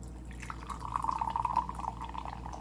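Liquid is poured into a bottle to measure half a cup, giving a steady, close trickle whose pitch shifts slightly as the bottle fills, over a low background hum.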